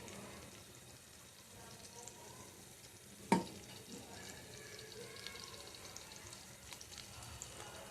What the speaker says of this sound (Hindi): इसके अंदर मैंने बघार के लिए 3 तेज पत्ते, 1 इंच दालचीनी का टुकड़ा और 3 हरी इलायची डाल दी है